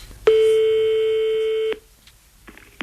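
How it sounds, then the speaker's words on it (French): A telephone line tone sounds as a call is placed: one loud, steady electronic beep lasting about a second and a half, then cutting off into quiet room noise. "On appelle Alexandre."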